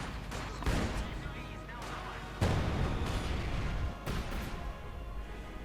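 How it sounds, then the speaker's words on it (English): An artillery barrage in the video game Company of Heroes 2: booming explosions and rapid gunfire burst repeatedly, heavy blasts at intervals over continuous battle noise and a talking voice. "Lots of explosions here and there."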